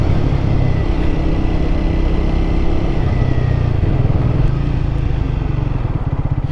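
A Triumph Speed 400 motorcycle ridden on a road, its engine giving a steady, loud, close drone with a low rumbling pulse throughout and no talking.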